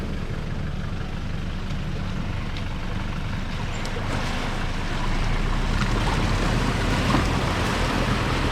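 4WD vehicle driving through the half-metre-deep Ducie Creek water crossing on the Old Telegraph Track in Cape York, a continuous loud rush of churning water and engine rumble that swells near the end, with no talk.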